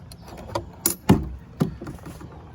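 A small wooden baby chicken coop door clatters open outdoors, a few close knocks and latch rattles in quick succession with short gaps between them.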